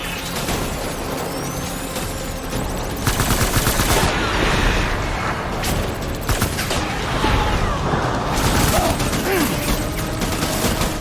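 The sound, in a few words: gunfire from Death Stranding video game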